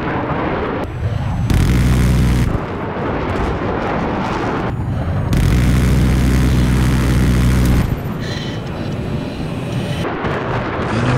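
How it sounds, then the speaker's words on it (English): An enemy jet roaring through a flight combat game, loud sustained engine rumble and whooshing passes that surge and cut in blocks, with heavy low thunderous noise and no voices. "Enemy jet."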